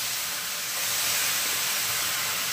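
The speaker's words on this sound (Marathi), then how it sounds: "पॅन चांगलं तापलेलं आहे आणि हे मी धुवून घेतली मटकी आणि प्रथम मी अशीच टाकणार आहे" Washed moth beans hit a hot, dry pan before any oil goes in and give a steady, close, broadband sizzling hiss that holds evenly throughout.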